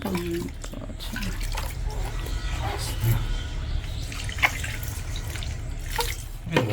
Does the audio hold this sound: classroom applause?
no